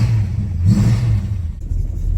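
A 1968 Plymouth Barracuda with a 318 V8 runs roughly, producing a loud, close, low engine rumble with a brief uneven surge partway through.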